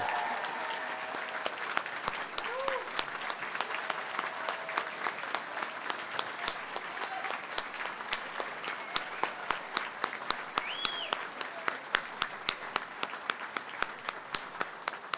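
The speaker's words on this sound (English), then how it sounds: "Let's give them all a big round of applause." Steady applause from a large crowd at a university honors college graduation ceremony, continuous clapping throughout with faint voices beneath it.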